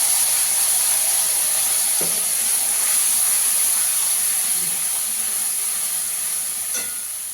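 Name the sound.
mustard-poppy seed green chilli paste sizzling in pan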